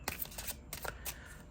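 Oracle cards riffled and shuffled by hand, a slippery deck slightly longer than a standard tarot deck, giving soft papery bursts in quick succession, close and quiet.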